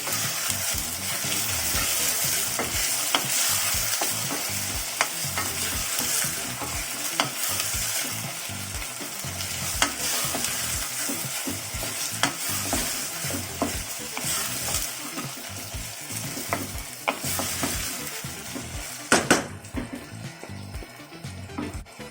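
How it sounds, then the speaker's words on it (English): Onions go into a pan with browned ginger and garlic for chicken curry, sizzling loudly and steadily while a spoon repeatedly scrapes and stirs them close by. "I'll add onions. Give it a quick stir."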